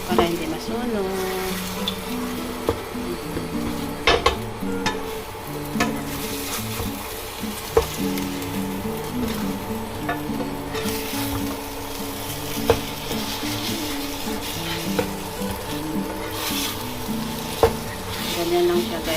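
French beans and egg frying in a pan, stirred with a utensil that gives intermittent scraping clicks over a steady sizzle, while a voice talks in the background.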